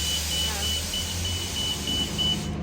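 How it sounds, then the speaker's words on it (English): A loud bus idles or rumbles past near a resort lobby, a steady low engine drone with a repeating high electronic beep over it, fairly close and constant throughout. "oh, that bus is loud"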